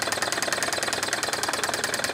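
A Wilesco H 110 toy Stirling engine runs with a steady, fast mechanical ticking and rattling, evenly repeated and close up, with no voices.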